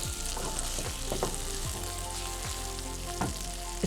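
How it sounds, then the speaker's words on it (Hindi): Paneer fries in butter for a keto dish, with a loud, steady sizzle and crackle that continues throughout, broken by occasional scrapes and stirs. "इसको हम कर रहे हैं फ्राई"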